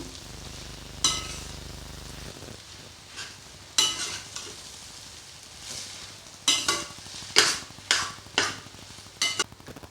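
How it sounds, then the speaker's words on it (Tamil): Noodles frying in a pan are stirred, giving a soft sizzle beneath a series of sharp scraping strokes that come in irregular bursts, close and with no voices. "இப்போ நூடுல்ஸை நல்லா மிக்ஸ் பண்ணிடலாம்"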